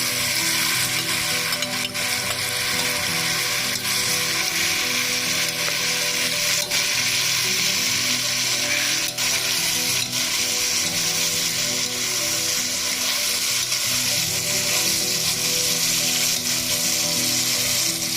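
Carrots sizzling and frying with meat in a pan for Uzbek-style plov, a steady, loud broadband crackle with occasional stirring scrapes, continuous throughout with no talking.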